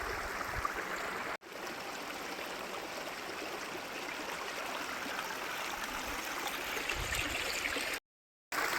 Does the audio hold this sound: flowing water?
yes